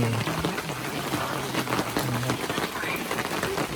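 Water boils in a pot over a campfire at a rainy mountain campsite at Gunung Silipat in Yala, a steady close bubbling and hiss with faint talk in the background.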